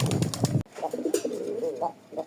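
A Rajgolla pigeon held in the hand coos softly and close by in a few low, throaty bursts, following a brief louder noise at the very start.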